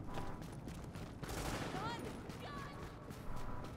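Gunfire in the video game The Division 2: bursts of dense shots and crackling fire come one after another at a fairly constant level, with players talking over the action.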